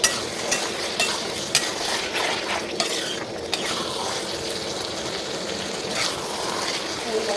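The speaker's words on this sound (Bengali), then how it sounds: "আমি এটার মধ্যে জল দিয়ে দিচ্ছি।" Water goes into a pan of simmering potato and pea curry, producing a steady, close hiss and sizzle with a few light utensil clinks that lasts throughout.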